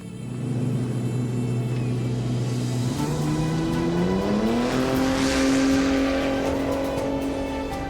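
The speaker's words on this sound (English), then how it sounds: "The cars will start one at a time, a minute apart." An off-road race car at the start of the Finke Desert Race in 2015 idles and then revs, its engine rising in pitch, loud and close, with no one speaking.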